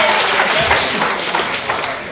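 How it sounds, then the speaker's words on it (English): Scattered audience clapping during a talk on innovation, a moderate steady patter of hands with faint room murmur. "Let's pick that clap up a little"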